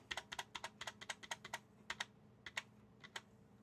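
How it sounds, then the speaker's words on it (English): Keys on a Lenovo laptop keyboard being typed on during a repair check, a quick irregular run of sharp clicks close up with short pauses, no talking. "keyboard's still responsive, which is good"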